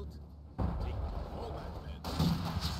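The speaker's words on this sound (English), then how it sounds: "This fucking mortar killed." Mortar rounds firing and landing in the World War II strategy game Company of Heroes 2: heavy booming thuds at about half a second and two seconds over a steady battle rumble, with faint talk in the background.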